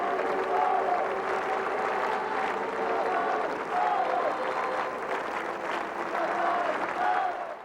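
A large crowd gives a long, sustained ovation for Pope John Paul II. The dense clapping swells loud and continuous, with faint voices and cheers woven through.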